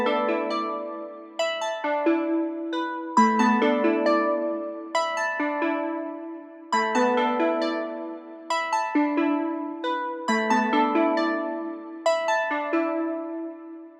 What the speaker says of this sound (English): we're also using another Hive. It's called the HS Florid Keys from the Keys and Classics Bank.